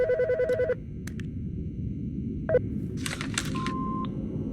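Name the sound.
telephone ringing in the video game Autopsy Simulator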